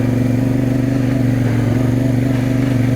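A CFMOTO 450 MT motorcycle rides up a trail in first gear, its engine giving a steady, close droning hum with a low, even throb throughout.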